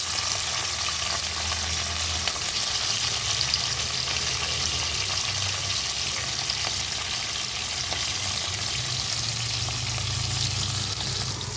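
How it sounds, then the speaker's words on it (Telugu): Green chillies, onions and tomatoes fry in hot oil with a loud, steady, close sizzle that continues unbroken throughout, with no voices. "తర్వాత టొమాటోస్ని కూడా అలాగే ఫ్రై చేసుకోవాలి."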